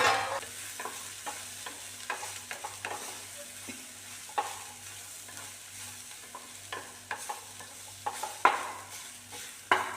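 Cabbage stir-fry (upperi) cooks quietly in a pan with a faint sizzle, while a spoon stirs and scrapes it in irregular taps and strokes over several seconds.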